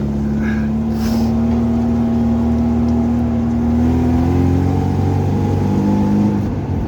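A Moskvich 412 car engine drones steadily while driving, heard from inside the cabin, its pitch rising slowly as it gains speed, loud and continuous throughout.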